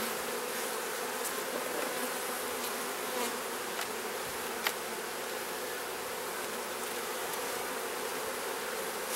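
Honeybees swarm around an open beehive, making a dense, continuous buzzing hum close by that holds steady throughout, with a few individual bees whizzing past.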